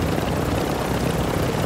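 A helicopter in a video game flies close by with a loud, steady rotor and engine roar, continuous and unbroken, with no voices over it.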